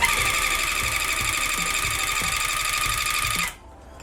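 A tufting gun punches yarn into stretched fabric for rug making, giving a steady, close mechanical buzz with rapid rhythmic thumps that runs continuously and then cuts off abruptly near the end.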